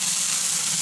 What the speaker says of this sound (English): Burgers are sizzling away and it smells great.